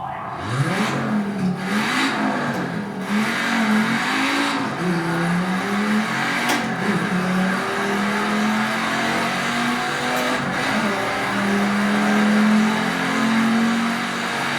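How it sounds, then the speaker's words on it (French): Racing car engine in Project CARS, driven with a wheel, shifter and pedal set, revving loud and steady throughout, its pitch climbing and dropping through gear changes, with occasional tire squeal. "Le bruit du moteur."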